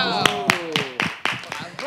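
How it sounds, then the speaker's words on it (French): Audience clapping in a steady, evenly spaced beat, fairly close and moderately loud, lasting under two seconds while a voice carries on over it. "applaudissez mon ingénieuse"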